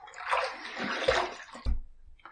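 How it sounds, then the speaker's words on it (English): Tap water runs and splashes briefly as a razor is rinsed mid-shave, a close, soft rush with two small knocks against the basin and no talking. "Let's rinse."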